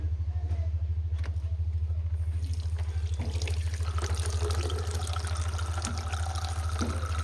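Glue being washed off a hand under running tap water, a steady splashing flow over a constant low engine-like rumble, with occasional knocks and rubbing.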